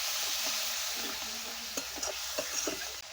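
Masala fries with a splash of water in the pan for a silver carp fish curry with raw tomato, giving a soft steady hiss with a few faint spoon scrapes, quiet and brief.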